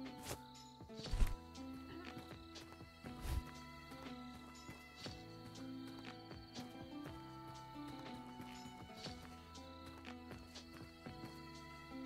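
Horse whinnies and clip-clopping hooves in a tavern management video game, two sharp bursts standing out early over a steady bed of game music and ambient tavern noise.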